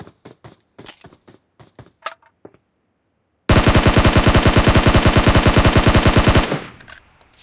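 Rapid automatic gunfire in a battle-royale shooter video game, from an M4 or similar rifle, bursts out in a loud, fast, steady stream lasting about three seconds after a run of short clicks and taps and a moment of silence.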